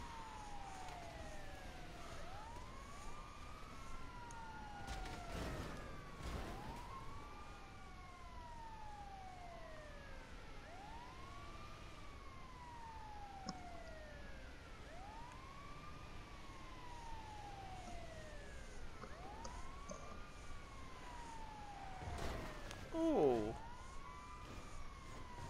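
Wailing ambulance siren from Grand Theft Auto V, a repeating rising and falling sweep that cycles steadily over traffic noise, with a few brief louder bursts and muffled game sounds around it.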